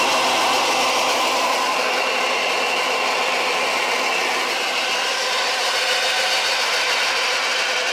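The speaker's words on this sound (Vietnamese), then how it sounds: "đây chính là dòng máy ép cá viên Takio 180" A Takyo TK180 vertical three-roller feed pellet press, running on single-phase 220V power, grinds and rattles with a steady, even mechanical whir and rubbing clatter, close and continuous throughout.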